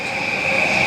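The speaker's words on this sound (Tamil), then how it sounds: "இந்த இன்னும் ஒரு ஷின்கான்சென். இங்கே இன்னும் ஒரு ட்ரெயின் வருது." A Shinkansen bullet train runs past a trackside train-spotting location in Tokyo, a steady, loud rushing roar with a high whining tone held throughout, no voices.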